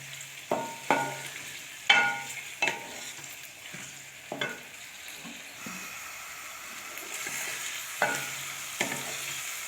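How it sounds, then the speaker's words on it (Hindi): Chicken stir-fried with ginger-garlic paste for a turnip chicken curry, giving a continuous low sizzle broken by repeated spoon scrapes and knocks against the pan. Close and steady, with no talking. "अच्छी तरह इसको भूनते हैं।"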